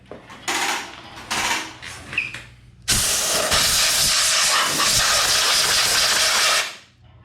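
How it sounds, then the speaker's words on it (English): An air compressor blows out the cooling fins of a Honda GX390 engine: three short hissing puffs, then one long, loud continuous blast of air that cuts off at the end. "Just going to take my air compressor and blow around in there."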